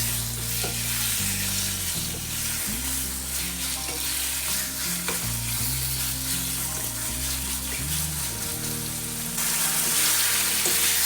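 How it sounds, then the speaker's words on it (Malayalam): Chicken pieces frying in cooking oil for chilli chicken, a loud, dense bubbling sizzle that continues throughout with occasional pops and a low background hum, no speech. "ആദ്യം ചിക്കൻ ഓയിലിട്ട് ഫ്രൈ ചെയ്തെടുക്കുക."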